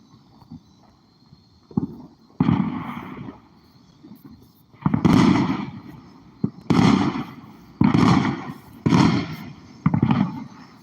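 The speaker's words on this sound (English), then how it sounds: "When the next firework goes off" Fireworks go off outdoors on the Fourth of July, 2025. Booming bursts ring out one after another, some with a crackling tail, loud but not right overhead, with small pops between them and no talking.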